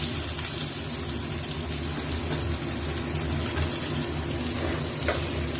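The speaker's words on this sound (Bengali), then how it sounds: "এই পেঁয়াজটা এলাচ, দারচিনির সঙ্গে ভাজা ভাজা করে নেব" Steady sizzling of onions frying in hot oil with cardamom and cinnamon, a continuous crackling hiss with no voices.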